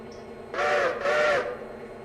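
A multi-tone locomotive chime whistle from the Railroader train game sounds in two steady blasts of about half a second each, separated by a brief gap, fairly loud against a low background hum with no talking.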